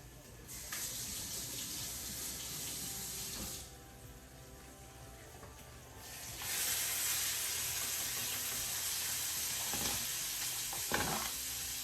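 Bacon fries in a pan with a steady, close, bright sizzling hiss that swells louder partway through, with a few faint clinks over it.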